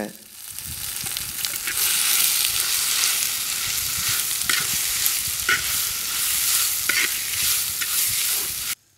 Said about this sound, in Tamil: இப்போ நறுக்கி வச்சிருக்க வெங்காயத்தை அது கூட சேர்த்து நல்லா வணக்கிக்கங்க